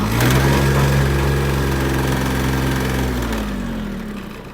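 A Mitsubishi MT-155 mini tractor engine runs steadily with its tiller blades turning in first gear, a loud close droning hum that holds even and then slowly winds down near the end.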